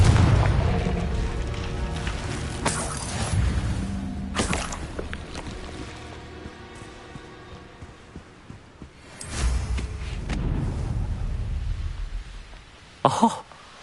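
Confringo spell blasts in a Harry Potter Hogwarts video game: several loud, booming bursts spaced a few seconds apart over rumbling game ambience, the last a sharp short crack.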